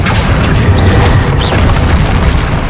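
A Confringo blasting-spell explosion in the Hogwarts Legacy video game: a loud, sustained booming rumble that fills the whole moment, close and heavy, with a couple of brief whooshing swirls over it.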